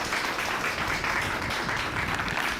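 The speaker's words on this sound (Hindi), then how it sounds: "जोरदार तालियां इनके लिए बजाइए।" Loud applause for Charanjit Singh at a farmers' quiz event on paddy cultivation: an audience claps in a thick, continuous wash for the whole stretch.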